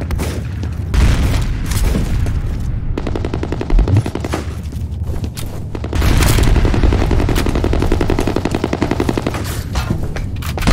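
A grenade explosion and loud sustained automatic gunfire in the first-person shooter F.E.A.R., dense bursts of rapid shots with heavy booms, loud and close throughout.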